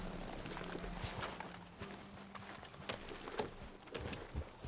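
Steady rhythmic clip-clop of horse hooves at a walking pace in the video game Red Dead Redemption 2, fairly faint, with a low hum and a few light background sounds.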